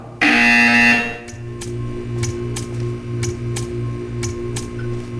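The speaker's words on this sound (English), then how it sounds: "You will hear a buzzer. When you hear the buzzer, stare at the art." A loud, harsh buzzer from the video game Portal 2 blares for about a second, then gives way to a steady hum punctuated by a regular series of sharp ticks.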